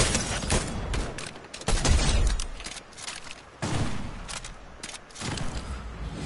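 Rapid gunfire bursts in Fortnite Chapter 3 Season 4, several loud cracks and volleys in quick clusters with short gaps, close and punchy with no talking.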